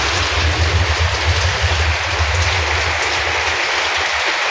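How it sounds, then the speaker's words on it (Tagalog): Steady, loud rain pours down in a continuous hiss during a rainy-season cooking session, with no pauses. "Naulan."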